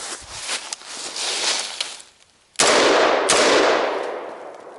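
Rifle fire with mil-spec ammunition outdoors on a shooting course: sharp, loud reports with long ringing echoes, one shot early, then after a brief lull two close, heavy blasts whose reverberation trails off.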